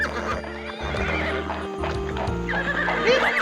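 A horse in a Bengali folk-tale cartoon neighs in shrill, wavering whinnies over a rhythmic clip-clop of hooves, close and clear with music underneath.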